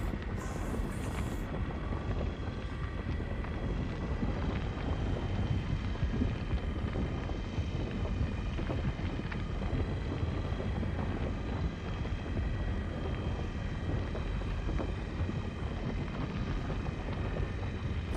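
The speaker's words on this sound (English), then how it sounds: "this wind is strong" Strong wind gusts through Star Citizen as a dense, steady roar with no breaks, loud and constant for the whole stretch, a broad rumble that never lets up.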